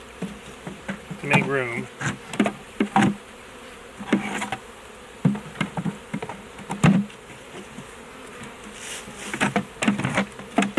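A honey bee swarm buzzes steadily at an open hive box while frames are lifted out, with knocks and clunks of wood and equipment scattered throughout and a brief spoken remark.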